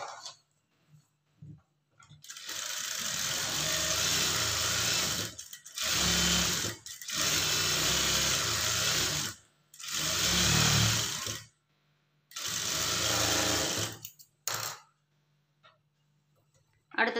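A sewing machine top-stitches the front piece of a blouse in several close, loud bursts of rapid whirring, with short silent gaps between the runs.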